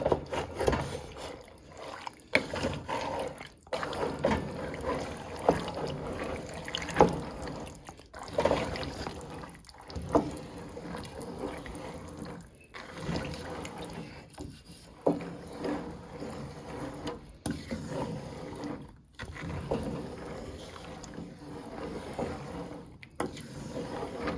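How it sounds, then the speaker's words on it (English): Strained, uncooked beans for homemade baked beans are mixed together in a wet, sloshing, squishy churn with irregular pulses, moderately loud and steady for over twenty seconds, with no voices. "I'm just going to mix all these beans together."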